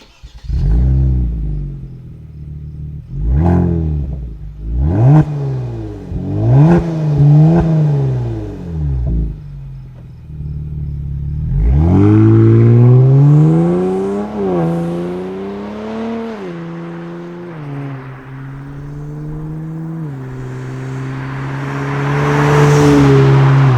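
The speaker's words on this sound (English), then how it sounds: "add the Helmholtz technology in there and you get such a sweet exhaust note" A Kia Stinger with an MBRP 2.5-inch cat-back dual exhaust blipped in several sharp revs at idle, then a long pull rising in pitch with a deep burbling note, loud and close.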